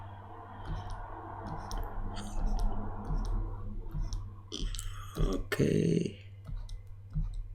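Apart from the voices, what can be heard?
computer mouse clicking in Photoshop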